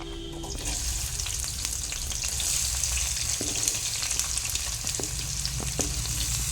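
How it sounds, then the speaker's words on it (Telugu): Sliced onions, green chillies and curry leaves sizzling steadily in hot oil in a pan while cooking chole masala, a continuous close crackling fry with occasional light stirring clicks, no voices. "మనం ఇప్పుడు ఈ ఉల్లిపాయలు వేసేసుకుందాం"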